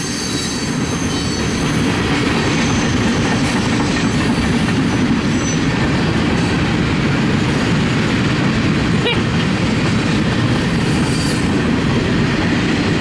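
A freight train rumbles past steadily and loudly on the Needles Subdivision, with a dense low roar of rolling wagons and a faint squeal of wheels on the rails throughout.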